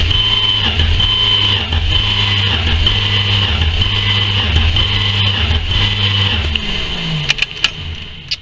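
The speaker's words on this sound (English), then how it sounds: "Crank the engine over." The engine of a 1971 Dodge Dart is cranked over in a garage during pre-start-up prep, giving a loud, steady, rhythmic churning drone that holds for several seconds and then winds down.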